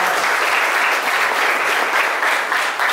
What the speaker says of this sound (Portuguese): uma salva de palmas para os nossos filhos